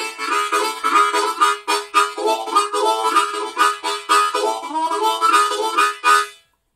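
Blues harmonica rhythm pattern played solo, a steady chugging series of short breathy draw-and-blow pulses with whispered articulation, close and fairly loud, ending abruptly.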